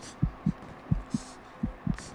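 A heartbeat thumps while a soldier bleeds in the Hell Let Loose war game: six low, close beats in three quick pairs, each lub-dub evenly spaced and heard alone.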